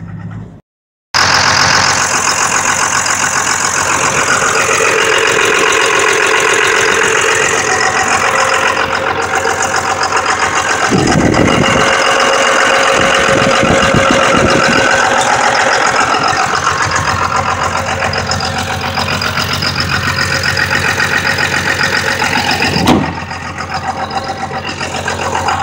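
A truck engine runs loud and close, a steady rough idle that carries on almost without a break, with a brief dip and a few surges partway through.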